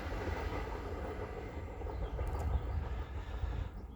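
A passenger train rumbles past and heads off into the Toses tunnel, a steady, loud low-frequency roar of rolling wheels and railcars lasting throughout, with no voices.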